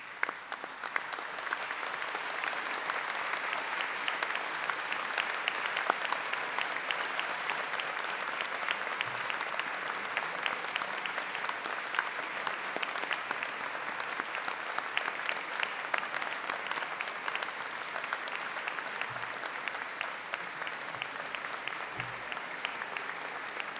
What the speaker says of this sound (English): show your appreciation to those who have supported you by giving them a round of applause